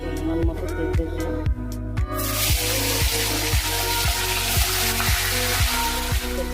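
Bay leaves and five-spice seeds hit hot oil in a pan while a hilsa fish head dish is cooked. A loud, close, continuous sizzle with a regular clicking beat over a steady hum.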